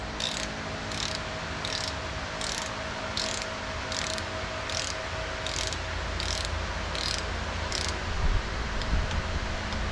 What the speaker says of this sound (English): torque wrench, which is set to 25 foot-pounds, and we're gonna tighten this up